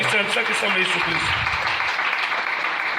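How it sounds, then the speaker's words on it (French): Church congregation clapping and cheering in praise of the Lord during a French-language sermon, a steady dense wash of applause lasting the whole moment, with voices mixed in. "Est-ce qu'on peut acclamer pour le Seigneur?"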